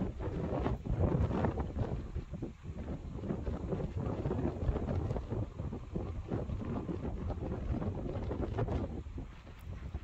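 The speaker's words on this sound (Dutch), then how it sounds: "Het waait heel goed." Strong wind buffets the microphone at an outdoor dressage competition, a loud rumbling roar with gusty swells throughout and no clear voices.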